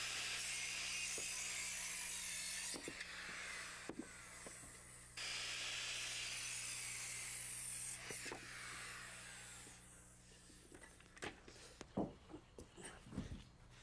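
A power saw set at an 18.5-degree angle cuts wooden wall studs and cripples for a rake wall frame. Several long rasping, whining cuts come one after another, then clatter and knocks as the pieces are handled.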